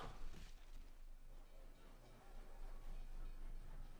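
A giant train in Team Fortress 2 rushes past as a broad, steady rumbling roar that swells slightly and stays loud for several seconds.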